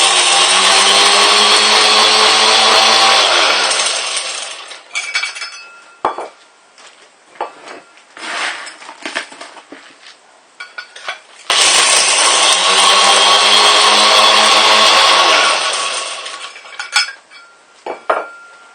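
A compact gold crusher grinding a scoop of ore: a loud, harsh mechanical roar runs for about five seconds, then stops, followed by scattered clinks and rattles, before a second equally loud grinding burst and more rattling.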